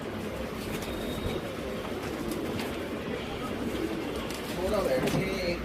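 Soft pigeon cooing under steady background rumble, with a voice talking nearby.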